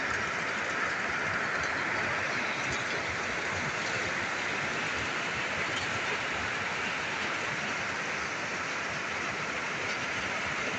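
Heavy rain pours down in a dense, unbroken roar, loud and constant throughout with no voices.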